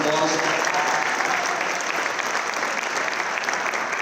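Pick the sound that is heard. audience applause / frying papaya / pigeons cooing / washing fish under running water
audience applause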